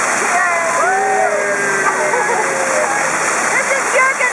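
Water pours steadily from an Ottoman-era fountain at Corlu, a constant close rushing splash, with people talking and calling out over it throughout.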